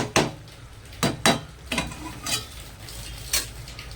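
A metal lid set onto a cooking pot of cabbage on the stove, heard as a few sharp clanks and scrapes spaced unevenly over a low, steady background hiss.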